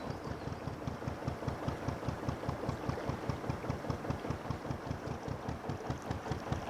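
A narrowboat's diesel engine chugging along the Lancaster Canal, a steady rhythmic low thump at idle-like pace, even and close, with no talking.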